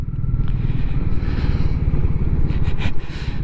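Royal Enfield Meteor 350 motorcycle on a ride after a service and clutch adjustment in -1 degree cold, its steady low engine thrum loud and continuous throughout with faint rattles and wind noise above.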